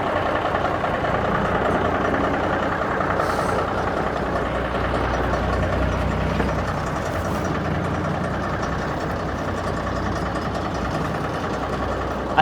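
Diesel engine of an old abandoned tow truck idling steadily after sitting unused, a continuous low rumble close by with a brief hiss of air pressure near the start and no talk.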